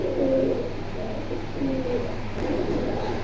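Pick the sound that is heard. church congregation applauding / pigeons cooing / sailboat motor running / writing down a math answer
pigeons cooing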